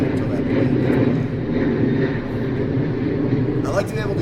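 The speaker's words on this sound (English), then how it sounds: "My God, that plane's loud." A loud airplane drones steadily overhead at an outdoor dog training session, a dense broadband roar filling the whole clip beneath people talking.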